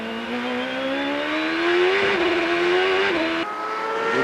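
Player's team race cars at the 2003 Monterrey Grand Prix, a loud sustained engine roar that climbs in pitch as the cars pass, with one brief shift in tone near the end.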